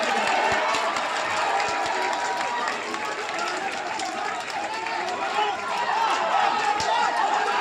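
A crowd claps and cheers at a match between Puthenkurish and Pandavas Kedamangalam teams at Thiruvankulam. The noise is dense, loud and continuous, a steady roar of massed clapping and shouting throughout.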